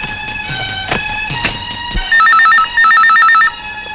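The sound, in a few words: telephone ringing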